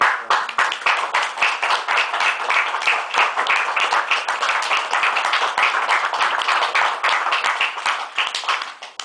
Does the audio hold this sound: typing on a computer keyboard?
no